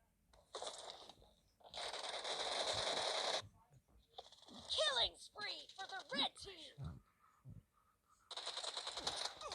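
G36C rifle fire in the shooter game PUBG, rapid automatic bursts in several long stretches with quieter rattling and metallic clicks between, and someone talking over parts of it.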